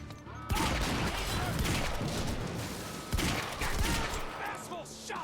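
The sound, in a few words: gunfire in video game Quantum Break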